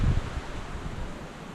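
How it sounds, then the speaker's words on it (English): Wind buffets the microphone in low rumbling gusts, strongest at the start and then settling into a steady, blustery roar. "Now it's pretty windy today"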